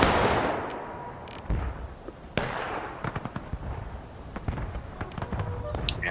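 In a Civil War video game re-enacting Pickett's Charge, a ragged musket volley crackles out on command, followed by scattered individual shots and sharp pops over a rumbling battlefield background.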